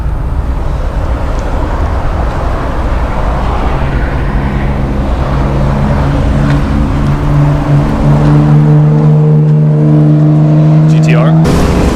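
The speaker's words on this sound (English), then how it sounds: "Please excuse all the crazy road noise behind me." Busy street traffic in Japan roars steadily and loudly as cars pass close by, with an engine droning and rising in pitch near the end, and voices are faintly audible beneath the road noise.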